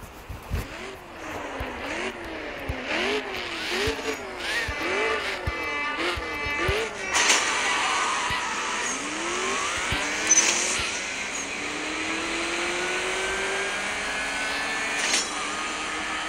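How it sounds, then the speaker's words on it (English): A Camaro racing on a track, its engine revving up and down repeatedly as it shifts through gears, with tire squeal and other cars; loud and continuous with no talking. "As you see there, we were racing the Camaro."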